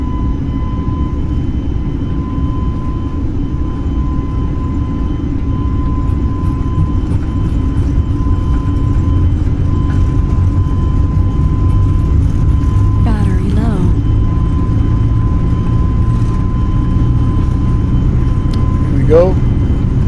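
Simulated Airbus A320neo engines spool to full takeoff thrust in the Fly by Wire flight simulator, a loud steady roar with a constant tone running throughout and brief chirping cockpit sounds near the end.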